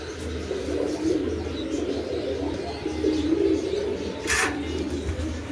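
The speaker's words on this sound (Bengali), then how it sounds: "তারপর আছে এখানে একটা বোম্বাই, গোল্লা বোম্বাই দেখতে পাচ্ছেন" Bombai pigeons at a home pigeon farm coo in soft, repeated low murmurs close by, with a brief flutter or chirp near the end.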